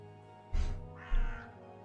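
A talking bird in the video game Dreamfall Chapters gives two loud, harsh caws about half a second apart, each with a short rasping tail, over a quiet steady background hum.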